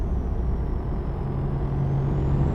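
Steady low drone of a V8 Scania truck engine cruising on a highway in American Truck Simulator, a continuous near rumble with a faint high whine and no talking.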